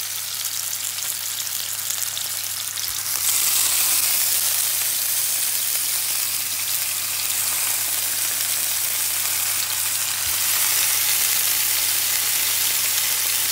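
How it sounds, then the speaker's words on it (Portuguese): Beef steaks browning in a pan where spinach was just sautéed give a steady, loud, close sizzle and fry that runs unbroken throughout, with no talking. "vou saltear aqui também, digamos, dourar aqui os bifinhos. Dourá-lo de todos os lados."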